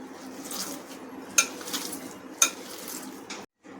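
Raw minced meat being mixed with spices for kebabs in a bowl gives soft, close squelching and rustling, with two sharp metallic clinks of a utensil against the bowl. There is no speech, and it ends in a brief silence.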